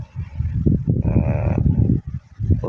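Cattle in a cow shed let out a loud, drawn-out moo close by, with low rumbling farmyard noise and shuffling around it.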